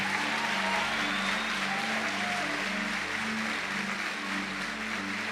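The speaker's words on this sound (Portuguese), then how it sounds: "Pode ser mais forte esse aplauso," A church congregation applauding during a service, a steady, even wash of clapping that sounds somewhat distant in the hall, with a low sustained tone underneath and no one speaking.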